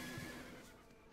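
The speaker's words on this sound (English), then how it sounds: "Wait, is somebody attacking my horse?" A horse whinnies briefly and faintly in a video game, a short high neigh fading out with nobody talking over it.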